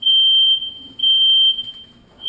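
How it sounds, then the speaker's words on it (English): A kitchen smoke detector set off while baking scones sounds two loud, piercing high-pitched beeps, each about half a second long, the second followed by a quieter tail. "set the smoke detector off"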